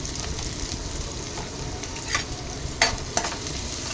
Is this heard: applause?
no